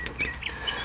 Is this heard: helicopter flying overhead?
no